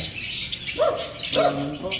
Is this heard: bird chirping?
yes